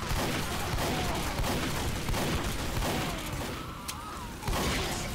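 Team Fortress 2 gunfire rings out in a dense, chaotic burst of repeated shots and booms over a loud battle din, several sharp blasts following one another in quick succession.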